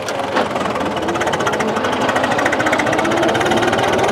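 A modified tractor engine runs close by with a fast, even, hammering knock that pulses continuously without pause, loud and steady from start to finish.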